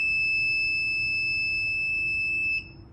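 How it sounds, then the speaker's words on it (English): An Arduino buzzer in an ultrasonic distance-sensor setup sounds a continuous, loud, high-pitched electronic tone with a steady pitch, then cuts off abruptly near the end. "the buzzer should go off"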